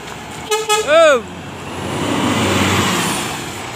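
Laksana SR3 XHD Ultimate bus entering a terminal at BRPS Pekanbaru: a loud melodic horn toot, then a steady engine rumble rising and swelling as it rolls in nearby.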